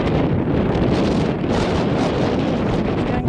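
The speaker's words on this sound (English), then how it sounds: "It's getting pretty windy." Strong wind buffeting the microphone outdoors near the Henry Ford Museum as a storm approaches, a loud continuous roar and rumble with no talk.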